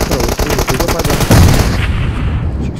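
Rapid automatic gunfire in an online team video game shooter, loud and close, forming a dense continuous burst of shots with game sounds and a faint voice mixed underneath.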